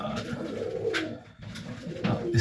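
Pigeons coo in a loft, soft repeated low coos and rustling from several birds close by, with a brief quieter gap midway.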